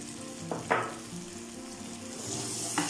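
Capsicum and carrots hit a hot pan and sizzle steadily, with a couple of sharp spatula clinks against the metal, close and fairly quiet.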